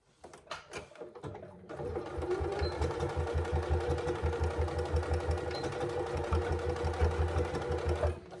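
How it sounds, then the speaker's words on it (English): A sewing machine runs steadily, basting fabric straps in place on a zip pouch, after a few short handling knocks at the start; a close, continuous rhythmic whirring stitch that stops abruptly near the end. "I'm just going to go ahead and baste these straps in place."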